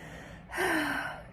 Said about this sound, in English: I apologize for yawning.